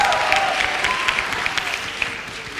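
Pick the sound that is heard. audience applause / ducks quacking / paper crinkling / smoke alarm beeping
audience applause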